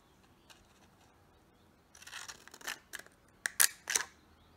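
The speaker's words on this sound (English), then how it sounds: "and now we're just going to cut our petals" Scissors snipping plastic to cut flower petals, a few quiet cuts and then a run of crisp, closer snips with short pauses between them. No talk.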